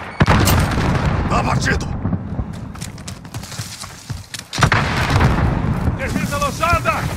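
Grenade blast and gunfire from a Call of Duty: Modern Warfare match, with a loud explosion near the start and repeated bursts of shots, with game voice callouts over the action.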